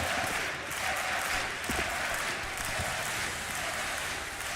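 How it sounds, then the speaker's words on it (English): A large esports arena crowd at a Counter-Strike match, DreamHack Masters Malmö 2016, keeps up a steady dense wash of cheering and applause throughout, loud and continuous with no pauses. "the crowd's loving it"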